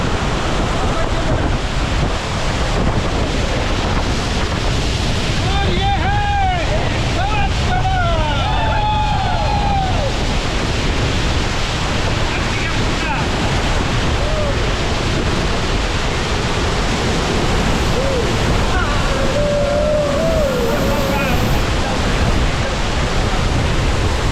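Sawat Kada waterfall at Murud Janjira pours as a steady roar of rushing water, loud and continuous throughout, with wind buffeting the microphone and brief calls of people faintly audible in the middle.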